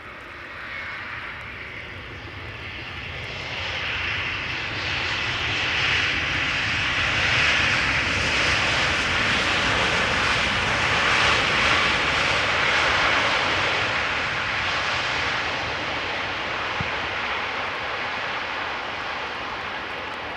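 An aircraft at Amsterdam Schiphol Airport produces a broad, swelling roar that builds to a peak midway and slowly fades, heard at some distance for about twenty seconds without talk.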